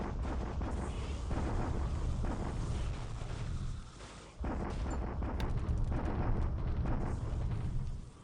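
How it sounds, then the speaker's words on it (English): Artillery bombardment in the War in the Pacific strategy game, a dense rumbling roll of booms and blasts that briefly dips quiet near the middle before resuming heavy and continuous, with no talking. "And I'm bombarding here just to see what's left"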